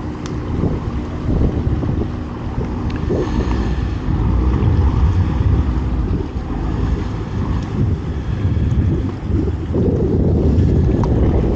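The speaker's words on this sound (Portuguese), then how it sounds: "os barcos que tem uma capacidade maior de passageiros chegando" A low, steady motor drone from large-capacity passenger boats arriving on the route to Ilha do Mel rumbles under heavy wind buffeting and lapping water, continuous throughout with no voices.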